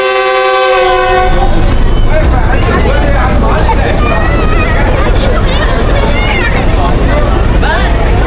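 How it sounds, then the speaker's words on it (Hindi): Departure whistle of the Green Line Express at Rawalpindi railway station, a loud horn blast opening and cutting off quickly, then giving way to heavy rumbling train noise and crowd babble on the platform. "उम्मीद है कि सेकंड डिपार्चर विसल जो है जो काफ़ी हैवी होगा वो आपको सुनवाते हैं।"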